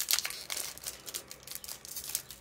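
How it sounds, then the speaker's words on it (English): A Pokemon card booster pack being opened, its foil wrapper giving off close, repeated crinkles and small tearing rustles in quick, uneven bursts. "Next, we're opening this pack."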